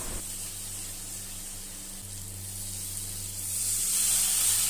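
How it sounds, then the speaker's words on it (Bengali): Onion and tomato with spices fry in a pan with a steady hiss, sizzling along continuously and swelling louder toward the end, with no voices over it. "এবার একটু ভালোভাবে নাড়বো যতক্ষণ না টমেটো মশলা থেকে তেল ছাড়ছে"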